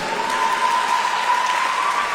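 Steady applause from a pageant audience, an even wash of clapping at constant level with a faint tonal hum running underneath.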